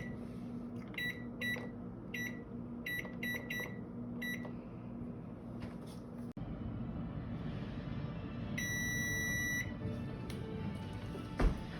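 A kitchen timer beeps after baking, giving several short clusters of high electronic beeps over a steady hum, then a later, longer run of tones.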